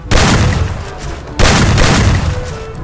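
Two loud AWM sniper rifle shots in a mobile battle royale game, each a sharp booming crack followed by a rolling decay, spaced about a second and a half apart.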